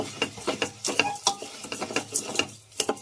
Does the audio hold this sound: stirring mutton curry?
yes